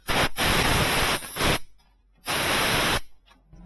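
Compressed air blasts over engine parts during knock sensor replacement on a 2005 Chevy 2500 with the 6.0 engine, with two loud bursts of hissing air, each about a second and a half long, separated by a short pause.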